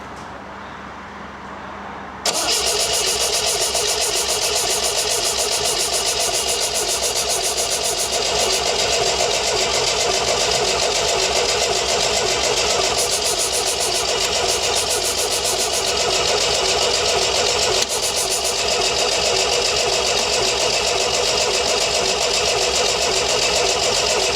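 An MGB engine under restoration, being tested for the first time, cranks briefly after a quiet moment, then catches and settles into a loud, steady idle close by that runs on without talk.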